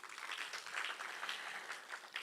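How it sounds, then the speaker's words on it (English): Audience applause at the Youth in Diaspora seventh anniversary celebration in 2025, a steady, sustained patter of many hands clapping together, fairly soft and distant throughout. "Ladies and gentlemen, I think we can give another round of applause."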